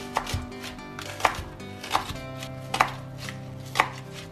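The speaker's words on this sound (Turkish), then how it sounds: "Bu şekilde doğruyorum." A knife chops radish on a cutting board in slow, separate strokes, five or six crisp thuds spaced about a second apart, with soft background hum.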